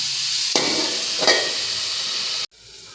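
Bitter gourd pieces sizzle in a frying pan with a steady hiss, broken by two loud stirring scrapes before the sound cuts off abruptly.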